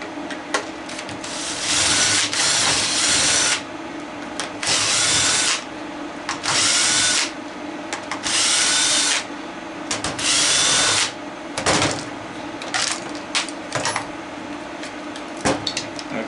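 A power drill backs out screws while a motor is scrapped for copper, running in repeated loud bursts of whirring with short pauses and handling noise between them.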